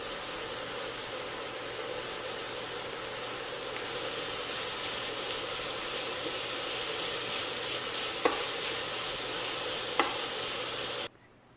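Chopped vegetables with a little chili pepper sautéing in a pan, a steady close sizzle and hiss throughout with two faint utensil taps near the end, no speech.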